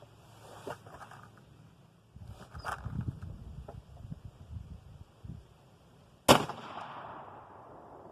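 A single sharp rifle shot from a 45-70 loaded with 55 grains of powder and a Magnum primer cracks loudly near the end, after quiet outdoor rustling and handling noises.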